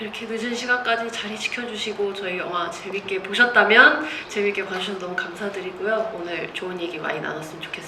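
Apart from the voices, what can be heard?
None of the usual background noises is heard.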